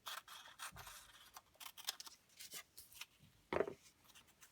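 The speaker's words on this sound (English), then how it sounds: "To do a nice circle, cut another square." Scissors snipping through a paper square, a quiet run of short, sharp cuts arriving in an irregular rhythm, close up with no talking.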